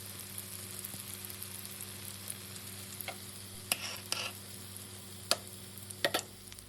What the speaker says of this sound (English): Continue frying until all the rolls are done.